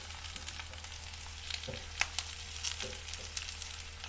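Okra frying in oil sizzles steadily and quietly, with a few small pops and crackles over a constant low hum, and no voices.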